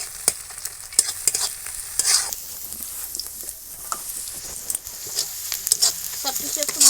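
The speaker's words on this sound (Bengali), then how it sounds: "সব কিছু একটু ভাজা ভাজা করে নেব।" Boiled garlic and green chilies frying in a pan, with irregular spatula scrapes and clinks over a low sizzle, close up and busy throughout.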